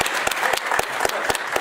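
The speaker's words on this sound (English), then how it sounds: "we can clap for that." At a live poetry cypher, an audience claps, with sharp individual hand strikes in a loose rhythm over a steady bed of scattered clapping, close and brief.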